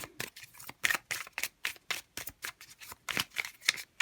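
Tarot cards shuffled and handled in a steady run of crisp riffling bursts, close and fairly quiet, with no talking.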